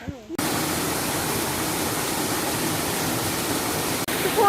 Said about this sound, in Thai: ตอนนี้เรามาถึงน้ำตกเรียบร้อยนะคะ